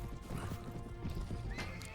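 Horse whinny and clopping hoofbeats in Mount and Blade: Warband, steady hooves running throughout with a loud neigh near the end, close and clear over faint battle ambience.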